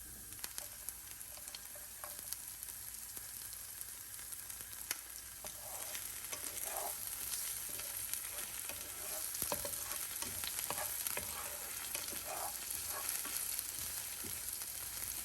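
Chopped spring onions and garlic fry in olive oil in a non-stick pan over medium-high heat, giving a steady close sizzle with occasional scrapes and stirring clicks throughout and no talking.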